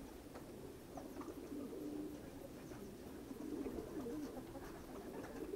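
Several pigeons cooing softly inside a pigeon loft, a faint, continuous low burble of overlapping coos with no talking.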